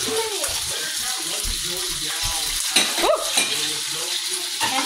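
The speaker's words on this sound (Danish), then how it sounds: "Okay, så Maja, hun steger de her nu." Onions frying in oil in a pan give a steady sizzle with stirring and scraping on top, and people talk nearby in Danish in a home kitchen.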